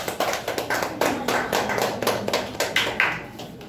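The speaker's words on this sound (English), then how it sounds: "So next we have with us, clap for Monica." An audience at a public speaking competition claps for the next speaker, a steady patter of hand claps lasting several seconds at moderate loudness, with no talking over it.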